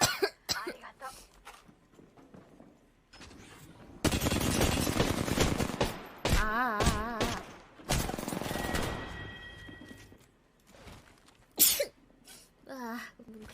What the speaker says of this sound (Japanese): うわぁ、くしゃみ出ちゃった